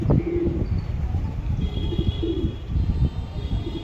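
Pigeon cooing in soft, repeated low notes close by, over steady background noise with a faint high tone running through.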